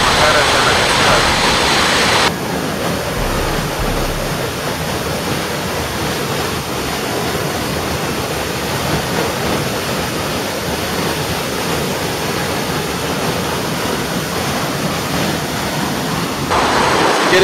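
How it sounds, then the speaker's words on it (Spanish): The Cacique waterfall in La Florida, Nariño, roars steadily, a thick, unbroken rush of falling water that stays loud throughout, with no pauses. "Una cascada muy bonita."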